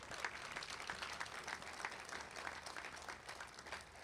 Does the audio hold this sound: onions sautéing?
no